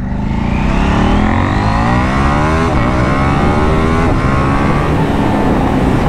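A KTM 890 Duke motorcycle accelerates hard for about six seconds, its loud engine note climbing steadily through the revs with two brief dips where it shifts gear, then pulling on strongly and close by.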